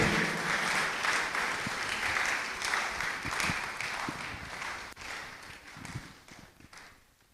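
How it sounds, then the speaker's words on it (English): Seminar audience gives a speaker a sustained round of applause, dense steady clapping from many hands throughout, thinning slightly toward the end. "a huge or loud or resounding round of applause, let's invite Dr. Gerald"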